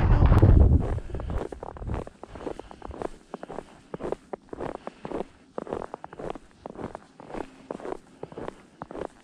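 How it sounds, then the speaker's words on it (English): Strong gusts buffet the microphone at first, then ease into a lighter breeze while footsteps crunch steadily along the Appalachian Trail during a morning hike. "Quite so windy down here."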